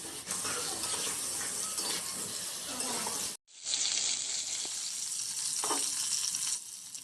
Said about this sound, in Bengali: পটলগুলো উল্টে পাল্টে ভালো করে ভেজে নেব।